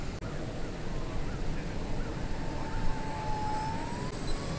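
Dynam PT-17 biplane RC model with a three-bladed prop flying an approach, a steady distant engine drone that shifts slowly in pitch over several seconds against outdoor background noise.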